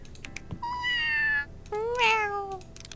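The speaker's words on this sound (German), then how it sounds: "Miau." A cartoon cat in the video game Scribblenauts Unlimited gives two clear, drawn-out meows. The second meow rises and bends in pitch, with faint clicks between them and no talking.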